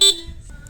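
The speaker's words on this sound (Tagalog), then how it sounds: "Ayan, stock horn." A single short, bright beep from a Honda ADV160 scooter's stock horn sounds at the start, then cuts off into near silence.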